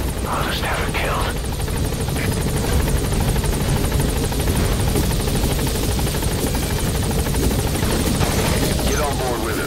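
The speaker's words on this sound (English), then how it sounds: "I'll send the extraction chopper." An extraction helicopter in the video game Metal Gear Solid V, its rotor whir and engine drone steady and close throughout, with game voices and radio chatter over it.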